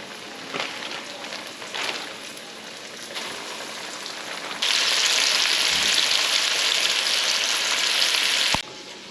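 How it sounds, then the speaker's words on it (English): Fish fillets dropped into hot oil burst into a loud, steady sizzle that holds for several seconds before stopping abruptly, following a quieter stretch of faint crackling. "I'm gonna put each fillet in. Oh yeah, the oil's ready."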